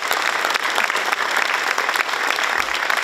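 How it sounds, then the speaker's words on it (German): Sustained audience applause at an outdoor maypole raising in St. Pölten, dense and steady clapping throughout, loud and close with crowd ambience and no speech. "ihr habt euch einen sensationellen Applaus"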